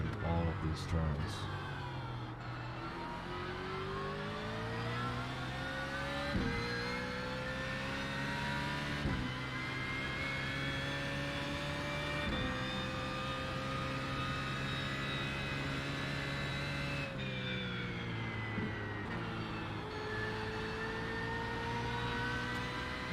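Simulated engine of a BMW Z4M GT3 race car in iRacing at Zandvoort, holding a steady high-revving note with sharp rev blips and pitch steps as it shifts through the gears, loud and continuous.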